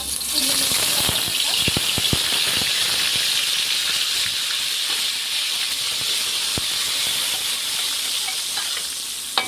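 Chopped onion sizzles in hot oil while cooking palak paneer: a loud, steady frying hiss runs throughout, with a few sharp clicks and taps from the pan and no talking.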